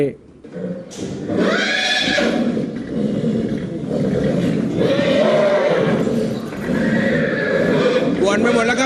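A stallion at a horse farm in Sakon Nakhon, Thailand, neighs loudly in repeated, drawn-out whinnies close by, with a steady noisy background throughout.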